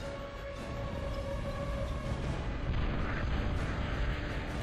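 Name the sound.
bombing explosions in the Total Annihilation video game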